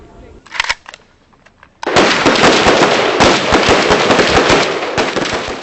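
Rifle gunfire at a shooting range training exercise, a few scattered sharp shots and then a dense, continuous volley of overlapping loud cracks from multiple shooters, with a voice heard briefly beforehand.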